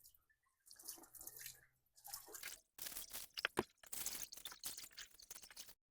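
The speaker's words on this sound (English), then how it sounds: "I like to just take some straight water and try and rinse things off a little bit" Plain water rinsed over coolant-covered engine parts of a Chevy Silverado or GMC Sierra V8 during a water pump change, heard as faint, intermittent splashing and dripping bursts in short irregular spurts separated by brief quiet gaps.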